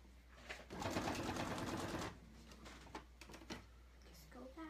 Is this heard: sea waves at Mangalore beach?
no